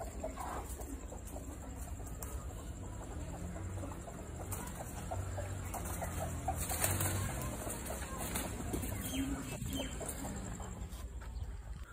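Chickens cluck steadily over a noisy outdoor background, with a rooster's voice rising briefly in the middle; no talking.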